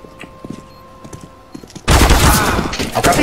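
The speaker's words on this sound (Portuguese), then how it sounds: "O cara mandando um tiro." Gunfire in Counter-Strike: Global Offensive: scattered faint shots and clicks at first, then a sudden loud, sustained burst of rapid automatic fire that dominates the second half.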